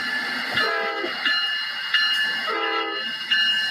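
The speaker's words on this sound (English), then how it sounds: "I hear a train a coming." The Channel View train, compared to a 1950s locomotive, passes loudly and close with a sustained multi-tone horn sounding in repeated blasts over rolling rail noise, with no talk.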